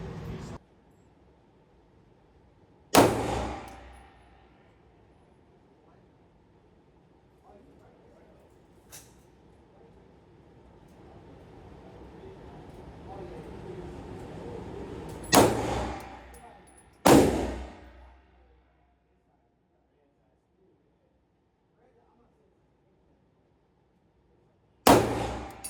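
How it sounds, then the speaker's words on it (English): SIG P229 pistol slow fire at a target about 10 yards away: several sharp, loud shots spaced seconds apart, each with a short echoing tail, amid outdoor range background noise. "So here I'm doing some slow fire to see what the group looks like with some well-aimed shots, probably around 10 yards."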